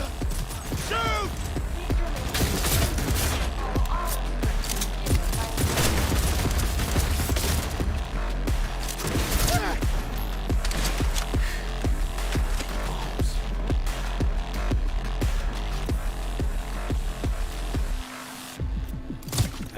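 A frantic shootout in Cyberpunk 2077: rapid bursts of gunfire crack and rattle almost nonstop, with sharp repeated shots, mechanical clicks and creaks, staying loud and close until a brief lull near the end.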